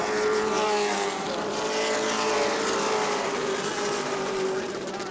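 Late model stock cars race at New Smyrna Speedway, a loud, sustained engine roar with a rising and falling pitch as the pack passes, while a commentator talks over it.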